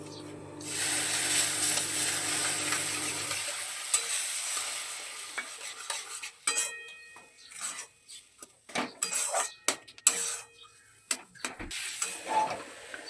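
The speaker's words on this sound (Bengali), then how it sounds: "এবারে আমরা একটু একটু করে এর মধ্যে জল মেশাতে থাকবো।" Water hits semolina frying in oil in a pan with a loud sizzling hiss, then a spoon scrapes and stirs the mixture in irregular bursts as the water is worked in.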